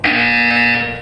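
A flat electronic buzzer from the Portal 2 video game blares in one sustained, loud tone for about a second, then cuts off.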